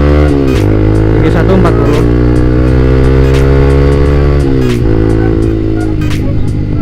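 Motorcycle fitted with an aftermarket RC exhaust revs hard, a loud steady engine drone with rising and falling pitch filling the whole clip, close to the microphone.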